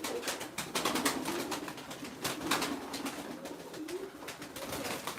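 A female smoky-spotted mirror-tail pigeon coos softly among other pigeons, with rustling, wing flutters and scuffling overlapping the low murmuring calls in a busy, close setting.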